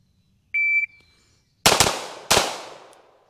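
A short electronic beep, then two loud, close pistol shots from a Staccato XC at a shooting range, spaced about two-thirds of a second apart, each with a sharp crack and a ringing decay.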